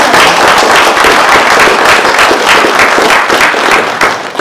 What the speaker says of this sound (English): Maybe we should give them all a clap while we're waiting.